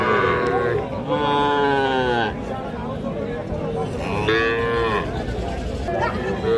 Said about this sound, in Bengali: এটা একটা ষাঁড় বাছুর।